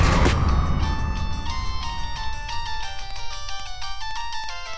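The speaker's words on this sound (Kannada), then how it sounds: "ಏ ವರುಣ್, ನಿನ್ಗೆ ಫೋನು ಅರ್ಜೆಂಟ್ ಅಂತೆ." A mobile phone ringtone plays a loud, bright electronic melody of repeating tones that fills the whole stretch over a steady background hum.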